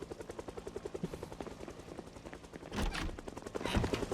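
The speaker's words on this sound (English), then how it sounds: "I'm waiting for the swa swa swa helicopter noise." In a video game, a helicopter's rotor beats in a fast, steady chop, joined midway by louder bursts of gunfire, with no speech.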